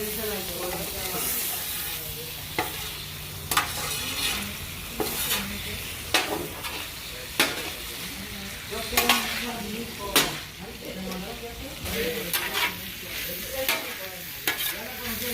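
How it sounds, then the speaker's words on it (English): Mexican-style Philly cheesesteak filling is stirred in a hot pan. A constant loud sizzle runs underneath, punctuated by repeated sharp clacks and scrapes of a spatula. "We're gonna go ahead and mix everything up."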